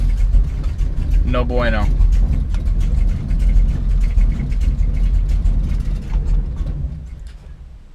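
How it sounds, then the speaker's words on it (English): A Dodge Dart engine with a carburetor problem runs roughly, struggling to idle with an uneven rumble, and sags toward the end as if about to stall, while someone speaks briefly over it. "See, it won't even idle now."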